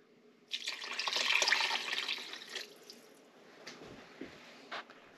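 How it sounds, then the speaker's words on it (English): Milk poured from a glass into a crock pot for potato soup, a steady liquid splashing pour of about two seconds that tapers off into faint dribbles and small clinks. "Adding the milk."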